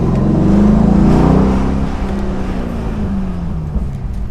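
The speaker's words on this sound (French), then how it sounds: "On entend les petits crépitements dans l'échappement, c'est toujours sympa, même en troisième." A Corvette engine at low revs in third gear, a steady deep exhaust note that swells in the first second and a half, then settles lower with faint crackles, continuous and close with no talk.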